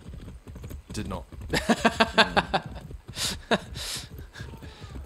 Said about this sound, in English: Yeah, you can sprint on a horse.